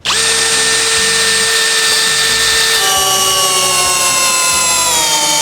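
Cordless CD-201HBC drill-driver in drilling mode, first speed, spinning hard with a loud steady whine that shifts pitch partway through as the bit bites, continuous and close without pause.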